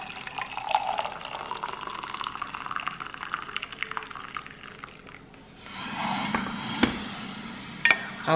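Hot water pours steadily into a cup with a rising gurgle, then a short splashy fill near the end, close up and fairly quiet.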